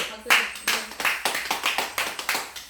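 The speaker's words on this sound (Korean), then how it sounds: "어서 박수, 박수" Studio audience on a Go (baduk) television show clapping in a short burst of about eight uneven claps, fairly close, with voices talking over it.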